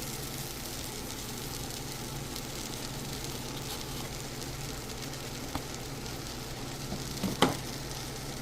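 Butter melting in a pan for a shrimp and crab soup, giving a steady close sizzle and crackle throughout, with a faint clink near the end and no talk.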